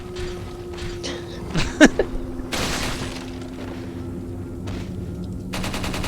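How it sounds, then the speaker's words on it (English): Gunshots in Resident Evil 4 ring out against blue targets as a few sharp, close cracks bunched together, followed by a noisy burst and steady game ambience, with someone talking. "Trying to shoot the blue thing."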